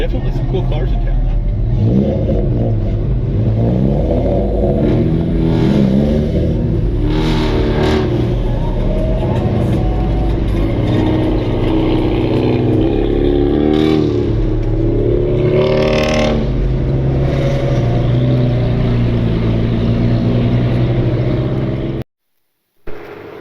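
Cars rev and pass by in town in Gatlinburg, with loud, steady engine roars, rising revs and passing sweeps. People talk over the traffic, and the clip ends in a brief cut-out.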